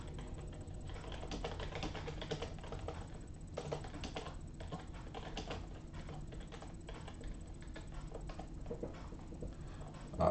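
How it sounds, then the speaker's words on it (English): Steady, fairly loud typing on a computer keyboard, a continuous clatter of keystrokes with short pauses between bursts, close by and with no voices over it. "Let me type it."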